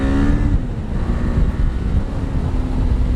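A Kawasaki KLE 500 motorcycle pulling away in first gear, its engine droning low and rough with rising tone at the start and wind buffeting the microphone, no talking over it.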